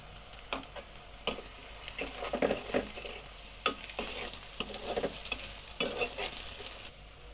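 Onion and vegetables frying in a pan with turmeric, stirred in repeated scraping strokes over a soft, steady sizzle, close and unaccompanied by talk.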